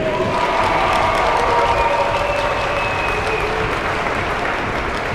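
Crowd at a 2016 ice sledge hockey gold medal game in Buffalo applauding a player announcement, steady clapping and cheering from a large arena audience heard throughout.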